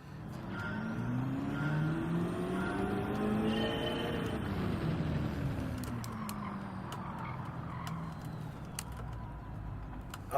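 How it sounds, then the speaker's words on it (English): A race car engine in Gran Turismo 7 revs and shifts through rising and falling pitch sweeps during a time trial, with faint tyre noise and a few sharp ticks near the end; no talking. "adjust the volume on your headset so this car doesn't scream at your ears"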